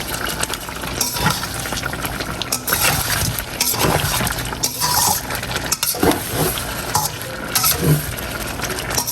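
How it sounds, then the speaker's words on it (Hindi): Steady sizzling and frying of ground ginger with meat in a pan, with scraping stirring strokes throughout, no talking. "और उसको भी 1 मिनट के लिए गोश्त के साथ भून लेंगे"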